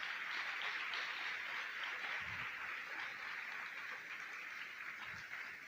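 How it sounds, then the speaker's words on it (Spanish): A church congregation applauds steadily, a dense wash of many hands clapping at a moderate distance, sustained without pause across the whole stretch. "Dale un fuerte aplauso a Jesús."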